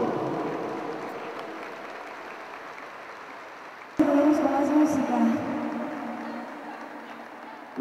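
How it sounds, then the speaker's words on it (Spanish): An audience at a cultural centre event claps steadily, the applause starting moderate, surging louder midway with some cheering, then tapering off gradually. "Fuerte el aplauso, por favor."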